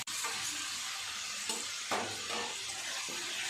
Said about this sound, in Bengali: মশলার সাথে কচু আলু খুব সুন্দর করে ভালো করে কষিয়ে নিতে হবে